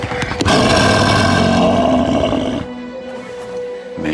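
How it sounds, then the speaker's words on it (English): A film werewolf growls and snarls loudly, a harsh, rough roaring burst that rises suddenly, holds for a couple of seconds, then drops away to a quieter rumbling tail. "Lots of growling and snarling going on."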